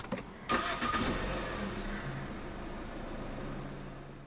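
A 2017 Proton Persona 1.6 fires up with a push-button start: a sharp cranking burst that catches quickly, then settles into a quiet, steady idle heard close by.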